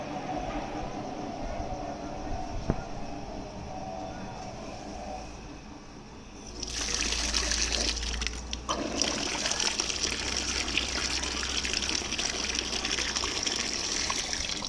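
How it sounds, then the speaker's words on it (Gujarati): Steady hum of running water, then a sudden louder gushing rush as flow increases and pours continuously into a storage tank, close by, with no clear talking. "આપણી ટાંકીમાં પાણી જાય છે"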